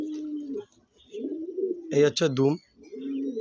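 Pigeons coo in soft low repeated calls close by, while someone talks over and between them.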